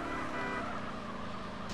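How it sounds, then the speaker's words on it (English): A car horn honks steadily over road and engine noise in the video game GTA San Andreas multiplayer, moderately loud. "Captain Cocaine's honking."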